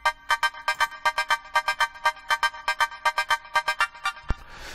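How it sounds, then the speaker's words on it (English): Bright, pitched-up synth chords chopped into a tight rhythmic gate by a blip groove, with short stabs pulsing steadily for about four seconds before a single sharp hit and a brief noisy tail. "I have the high chords, as I've called them, which has been triggered by this blip groove"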